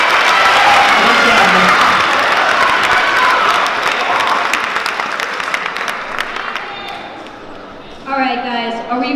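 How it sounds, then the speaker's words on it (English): Audience applause fills a school assembly hall, loud and dense at first and gradually thinning, before a voice speaks over the fading claps near the end. "Can we just give Nick a round of applause for saying all those names?"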